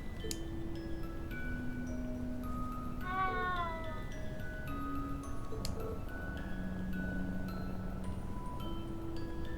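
A cat meows once in the video game Trails of Cold Steel, a short rising-and-falling cry heard alone over a steady low game background hum with faint ticking.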